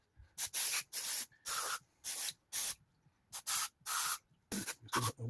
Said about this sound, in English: I'm just going to spray it down now with some carb cleaner